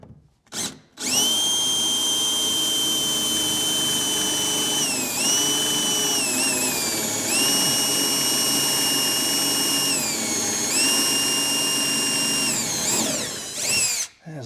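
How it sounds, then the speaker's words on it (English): A power drill drilling out a screw in a 1967 Pontiac Firebird door whines steadily at high pitch for over ten seconds, its tone dipping briefly under load a few times, with short stops at each end. "I'm gonna have to drill that out, I guess."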